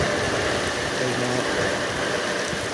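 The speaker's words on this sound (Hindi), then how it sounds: "बारिश जनाब तेज हो गई" Steady, dense hiss of heavy rain falling on a surface, continuous and fairly loud throughout, with faint voices murmuring underneath.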